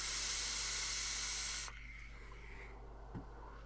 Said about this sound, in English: it's vaping away like this